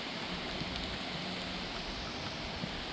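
Gentle monsoon showers on an Independence Day morning make a steady, soft hiss of falling rain with faint pattering on surfaces, continuous and even throughout.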